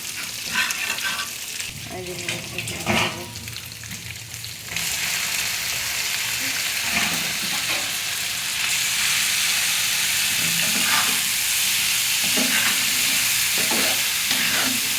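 Egg frying with spices in a hot pan gives a loud, continuous sizzle with intermittent stirring scrapes, starting quieter and rising to a steady hiss, with faint voices in the background.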